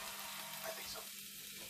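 Salmon fillet frying in a hot pan for a grilled salmon salad, a steady soft sizzle under quiet kitchen noise, fairly faint and even throughout with no talking.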